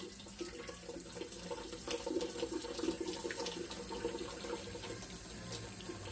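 Water flows steadily into a coleus plant pot until it pools, a continuous close splashing and trickling stream that holds at an even level throughout.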